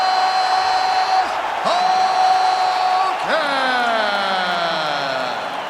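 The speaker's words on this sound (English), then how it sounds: "It is so loud in here, it sounds like we're pumping in crowd noise." Arena crowd noise in the UFC 6 fighting game after a fourth-round TKO finish, a steady loud roar with whistles and rising and falling cheers filling the whole stretch.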